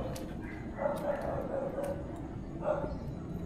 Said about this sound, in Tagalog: So may naririnig tayong mga aso.